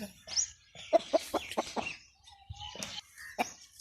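An Aseel hen clucks in short, close bursts, a few quick clucks in a row followed by a pause and then more scattered clucks and calls.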